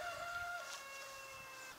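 Meat-bird chickens in an 8x8 pen let out a drawn-out, crow-like call that fades, with faint clucking and shuffling underneath, fairly quiet and distant.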